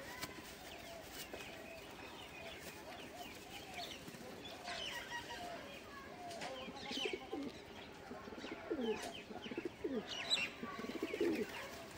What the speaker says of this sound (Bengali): এটা কাশুরি নর, এটা একটা কাশুরি নর।